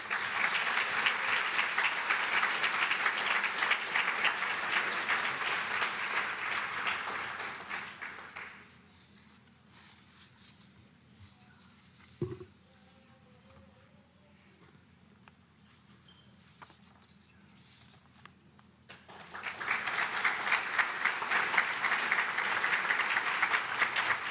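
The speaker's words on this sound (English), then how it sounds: "Again, one more round of applause." Graduation ceremony audience at a space camp robotics program breaks into loud, dense applause, fades to near silence for about ten seconds, then erupts into another strong round of clapping.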